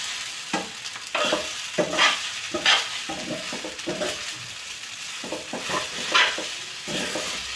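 A frying rice-based mixture is stirred in a pan, giving irregular scraping and clinking strokes over a continuous sizzle, close and fairly loud, with no talking.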